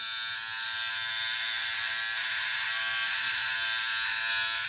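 A Philips OneBlade electric trimmer runs steadily while trimming, a close, even high-pitched buzz that holds for several seconds before cutting off abruptly at the end.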